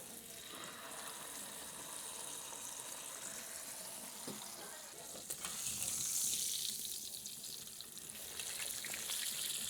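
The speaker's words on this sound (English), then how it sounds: "start pan searing this incredible piece of meat" A T-bone steak sears in a pan on an outdoor hot plate, a soft steady sizzle that swells louder and brighter partway through, with faint clinks and no speech.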